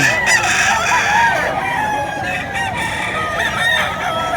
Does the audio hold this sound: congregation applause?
no